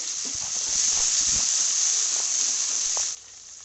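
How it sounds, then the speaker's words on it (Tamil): A steady, loud sizzle of chopped tomatoes sautéing in hot oil for egg curry holds for about three seconds, then drops off abruptly to quiet. "இது நல்லா எண்ணெயில் வதங்கட்டும் தக்காளி பழம் சேர்த்துக்கலாம்"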